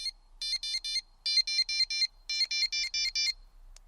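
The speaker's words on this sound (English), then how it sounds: "Does everything you need a bite alarm to do." A fishing bite alarm set to high volume gives loud, rapid electronic beeps in quick clustered bursts, with short pauses between groups. It is close and clear, with no voices.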